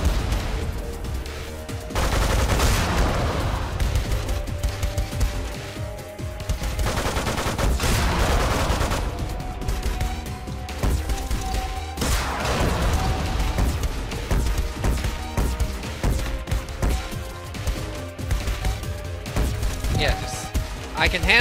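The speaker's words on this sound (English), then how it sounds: "I hate missiles." Missiles and explosions in the video game Megabyte Punch, a dense run of blasts and crackling bursts over game music, with a player talking over much of the action.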